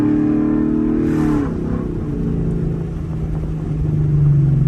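A Ford Mustang GT with a 10-speed transmission drives along, its engine giving a steady, loud, close rumble from the cabin. The note dips briefly and then builds again toward the end.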